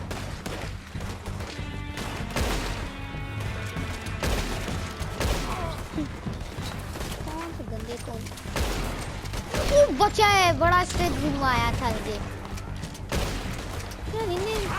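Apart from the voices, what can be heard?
gunfire in the video game Red Dead Redemption 2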